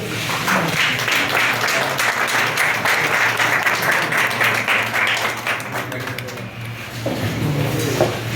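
An audience at a railway exam coaching class breaks into loud, sustained applause, dense clapping filling the room steadily for several seconds.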